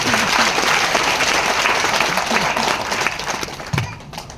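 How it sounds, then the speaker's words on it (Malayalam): An audience applauds steadily, a dense wash of clapping that fades slightly toward the end. "നല്ലൊരു കയ്യടി അടിച്ചേ, നല്ലൊരു കയ്യടി അടിച്ചേ."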